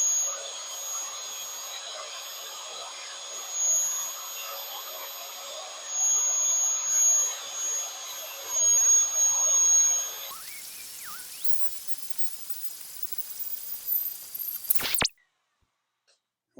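Power drill cutting dry, slowly, through an 8-inch chrome exhaust stack pipe on a Kenworth W900, a steady high whine lasting about ten seconds, then a brief scraping buzz before it stops.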